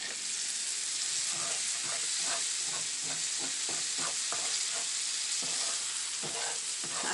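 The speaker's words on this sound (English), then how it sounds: "And it's sizzling there." Pork chops frying in a pan give a steady, loud sizzle throughout, with faint scraping and stirring clicks on top and no talking.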